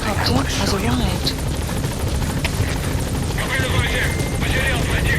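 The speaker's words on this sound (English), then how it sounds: "Support helicopter has arrived." Support helicopter arriving at a landing zone in Metal Gear Solid V: The Phantom Pain, its rotor a loud continuous thrum under game radio chatter and effects throughout.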